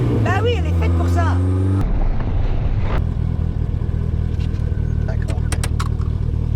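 A Renault R5 Turbo 2 engine, loud and close from inside the car while driving, climbs in pitch under acceleration, shifts abruptly, then settles into a steady droning growl.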